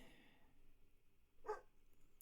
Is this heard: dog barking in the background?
yes